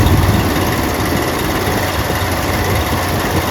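Car engine running steadily at idle during an alternator ripple test, a loud, constant low rumble with a continuous mechanical hum and no talking.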